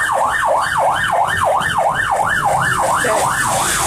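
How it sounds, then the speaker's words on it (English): Ambulance siren wailing in a steady rising and falling cycle, loud and close, in rush hour traffic with a low road rumble beneath. "There's a little ambulance coming right now."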